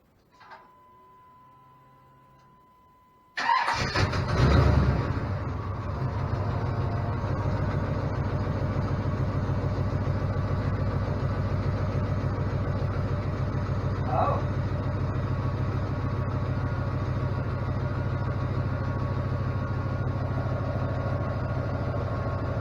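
A Chevrolet Suburban's Vortec 8.1 V8, swapped into a squarebody, is cranked after a fuel injector harness repair, catching abruptly and then settling into a steady, even idle for the rest of the clip.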